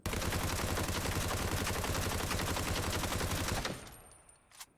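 A sustained burst of automatic gunfire rattles continuously and loudly for several seconds in the video game Ring of Elysium, with recoil being controlled, then cuts off abruptly and trails into a faint echo and a last small clack.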